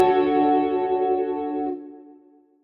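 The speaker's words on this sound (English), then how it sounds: "when the wet signal is more than the dry signal, it brings the wet signal in front" Electric guitar through a pitch bend effect on a Valeton GP200 processor with the wet signal louder than the dry, giving a bright, chorus-like sustained tone that rings out and fades over about two seconds.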